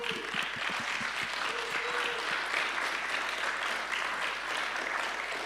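A church congregation applauds steadily throughout, a dense sustained patter of many hands filling the room at moderate loudness, with a few faint voices mixed in.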